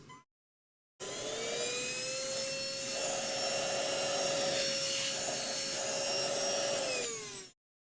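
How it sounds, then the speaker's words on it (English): A vacuum cleaner starts up after a brief silence and runs steadily with a high whining hum, loud and close, then shuts off and winds down. "I gotta vacuum."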